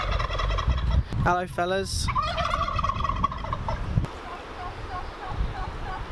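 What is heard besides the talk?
turkeys gobbling on a farm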